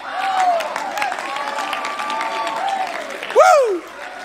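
A church congregation applauds at a steady roar of dense clapping, with cheering voices rising above it and a loud whoop near the end.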